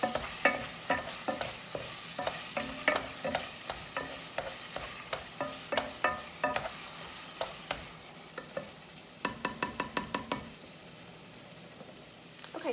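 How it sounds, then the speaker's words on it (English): Ground beef frying in a pan for taco soup, with a soft sizzle under repeated rhythmic scraping and stirring strokes of a utensil, close and quiet, ending in a quick run of taps, no talking. "I'm going to go ahead and get the beef cooking"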